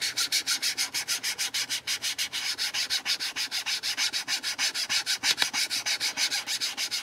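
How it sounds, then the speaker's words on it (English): Cardstock burnishing mica onto polymer clay makes rapid, rhythmic scratchy rubbing strokes, about five per second, steady and close with no voices. "I'm going to burnish it with my cardstock."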